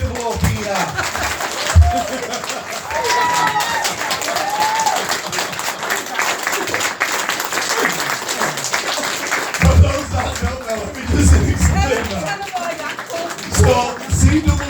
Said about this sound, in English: please join me in a round of applause for Julie Cooper